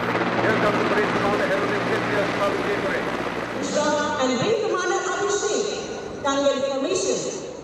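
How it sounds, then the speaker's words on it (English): Mi-17 helicopters flying in a Republic Day flypast formation, a continuous rotor and engine drone heard at a distance beneath ongoing commentary, with whining turbine tones rising in the second half. "The flypast will begin with the Dhwaj formation with four Mi-17 helicopters"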